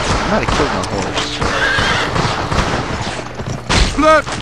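A horse in the Western video game GUN whinnies loudly alongside clip-clopping hooves and bursts of gunfire, with a voice talking over the action.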